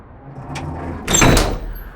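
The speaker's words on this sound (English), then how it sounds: "I pulled open the door" Door to an underground space pulled open, with a brief scrape followed by a louder rolling slide or swing lasting about half a second, close and clear in a quiet room.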